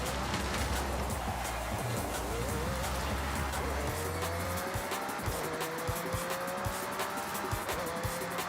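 A supercar in Forza Horizon 6 revs and races with engine whine and repeated tire squeal, sustained and loud with busy game noise, while a voice talks over it.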